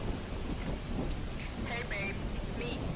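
Steady heavy rain hisses continuously in the Halloween 2 horror video game, with low thunder rumbling beneath and a few faint higher tones over the downpour.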